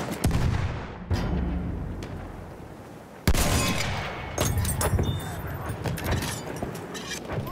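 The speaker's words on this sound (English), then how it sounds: "I don't know why I haven't talked about the explosive effects yet." Explosions and artillery fire in Battlefield 1, heavy booms and crackling blasts rolling one after another at close range, with sharp gunshot cracks and dense rumbling battle noise throughout.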